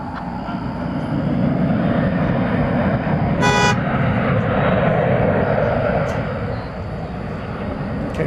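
A jet airliner rolls for takeoff on a runway at DFW Airport at night, a loud steady broadband engine roar filling the scene, with a brief whistle or horn toot partway through.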